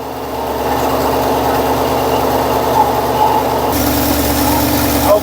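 A vintage Ford Econoline camper van engine idles steadily up close, a constant loud rumbling drone with a slight shift in tone near the end.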